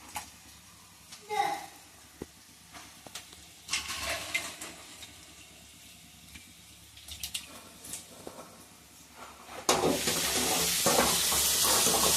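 Potatoes stirred and frying in a pan for a dry fish curry, with soft scraping and light sizzle through the first part, then a loud, steady sizzle swelling up near the end; no one speaks.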